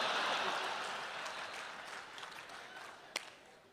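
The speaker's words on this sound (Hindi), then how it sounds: "समापन पर भरपूर तालियां बजा देना" Applause from a Hindi poetry recital audience at the close of a piece, a broad wash of clapping that starts full and slowly thins and fades, with one sharp isolated clap near the end.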